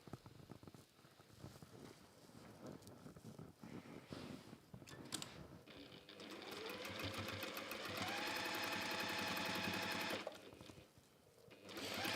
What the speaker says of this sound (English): And now I'm just going to sew around that base.